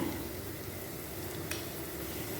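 Spices, turmeric and Kashmiri chilli powder, fry in oil for a prawn and carrot curry with a quiet, even sizzle throughout and one brief scrape partway through. No voices are heard.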